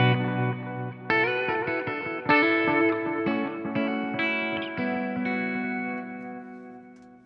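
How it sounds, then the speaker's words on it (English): An electric guitar played through a pedalboard with stereo reverb sounds a run of picked notes and chords, each note ringing out into a long, washy tail. "what you're hearing right now, it's the reverb,"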